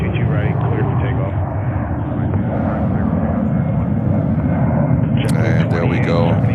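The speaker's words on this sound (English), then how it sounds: "Delta 767-300 to Los Angeles" A Delta Boeing 767-300 bound for Los Angeles takes off from JFK airport, a loud continuous jet engine roar that stays strong throughout, with a faint higher whine near the end.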